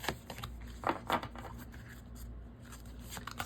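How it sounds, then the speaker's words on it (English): An oracle card deck being shuffled by hand, quiet papery riffles and soft slaps of clumping cards close by, with a couple of sharper flicks in the middle. "All right, one more shuffle."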